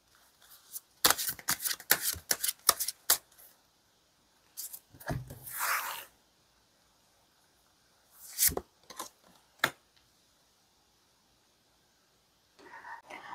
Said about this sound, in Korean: 상대방의 현재 감정에 대한 카드 먼저 뽑아볼게요